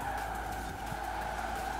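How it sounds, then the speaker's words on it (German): Tires squeal in a sustained, loud screech as a Koenigsegg drifts through a corner in the racing game Forza Horizon 4 on Fortune Island, with engine noise beneath and no talking. "Schöner Drift"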